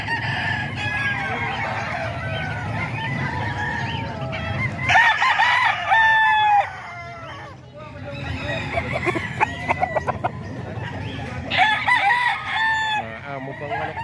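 A Gilmore stag rooster crows loudly and close several times, with clucking and other fowl sounds between calls and someone talking in the background.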